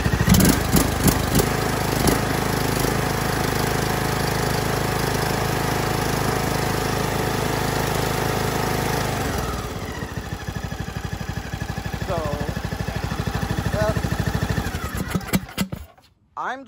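A John Deere LA125 lawn tractor engine runs steadily close by with a throbbing, mower-like drone; partway through its pitch drops and settles lower before the sound cuts off near the end.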